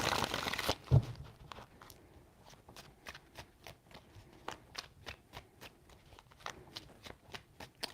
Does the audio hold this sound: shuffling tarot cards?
yes